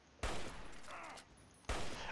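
Two loud gunshots ring out in Fallout 3, roughly a second and a half apart, each a sharp broadband crack. Something softer rumbles in the gap between them.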